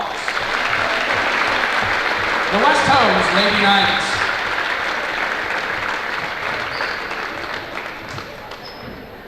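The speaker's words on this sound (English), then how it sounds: "Let's give them all one more round of applause." Applause from the crowd at a girls high school basketball game at West Holmes, honoring returning alumni, with steady clapping throughout and a PA announcer's voice speaking briefly over it.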